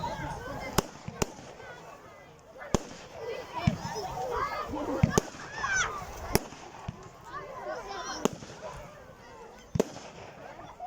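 Loud fireworks burst repeatedly on Bonfire Night, sharp bangs landing at irregular intervals amid crackling and a noisy crowd, with people exclaiming and talking throughout.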